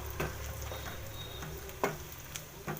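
Green curry leaves fry in hot oil in a pan for mutton chukka, giving a soft, steady sizzle with a few sharp crackles and pops.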